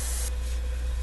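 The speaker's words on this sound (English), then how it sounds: "Really? Can I spray paint?" A short, steady hiss of a spray paint can in the game Erie, one continuous close burst lasting about a second with no talking.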